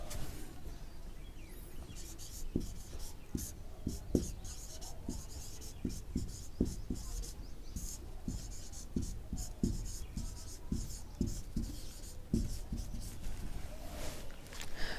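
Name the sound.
writing on a board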